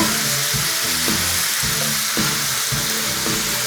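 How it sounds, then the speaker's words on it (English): Loud, close sizzling from food frying in a pan, a steady crackling hiss that runs the whole time. "Got this sizzling up."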